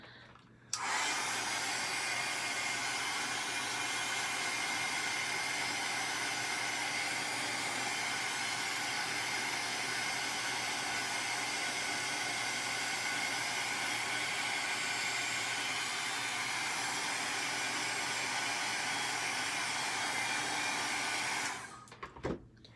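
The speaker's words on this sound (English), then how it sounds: "I'm going to take my heat gun and make sure it's completely dry" Heat gun blowing steadily over watercolor paper, a close, loud, unbroken airy roar with a hissing edge that runs for over twenty seconds before switching off, with no voices.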